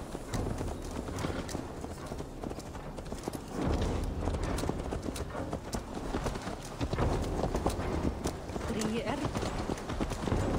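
Horse hooves clip-clop steadily in Assassin's Creed Valhalla, a repeated rhythmic trotting up close, with game dialogue and voices talking over the hoofbeats throughout.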